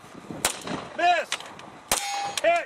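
Glock 23C rounds strike steel targets at night: sharp gunshot cracks followed by ringing metallic clangs with long, pitched tails, two clear hits in quick succession at moderate distance, no talking.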